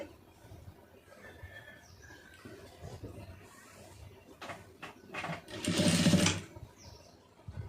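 A sewing machine stitches the sleeve joint of a blouse, running in one loud, close burst of rapid needle chatter after quieter handling of the fabric.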